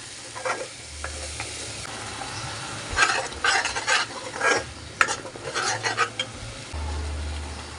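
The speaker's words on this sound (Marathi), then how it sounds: "आपण तो खोबरं कोथिंबीर आणि टोमॅटोचा आपण मसाला चांगला परतून घेऊया" Coconut, coriander and tomato masala being stirred and fried in a pan for an eel fish curry, with soft sizzling under a series of scraping stirs and utensil clinks, fairly quiet and without voices.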